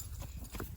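A mare's hooves clip-clopping on the ground at a farm, a few soft irregular footfalls heard close and fairly faint, with no talking over them.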